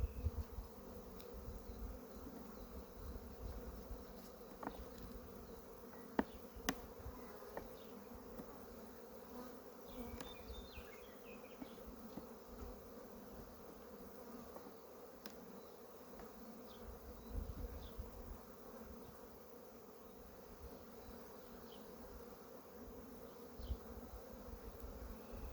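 Honeybees buzz steadily around an open hive during a brood and feed inspection, a dense continuous hum with scattered close fly-by whines and faint handling knocks, no talking.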